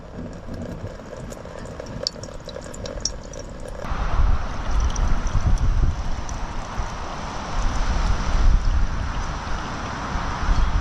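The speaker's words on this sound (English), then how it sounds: "Here we go. We're filtering water." Filtered water pours and trickles out through bottles packed with mattress material during a survival challenge in the hot, remote Australian outback, a steady splashing flow that swells louder after a few seconds, with wind buffeting the microphone and no talking.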